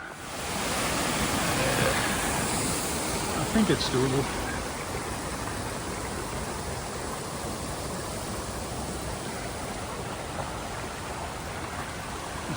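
The East Tyers River rushes steadily along a winter alpine trail among mountain ash, a continuous broad wash of flowing water. Someone speaks briefly over it early on.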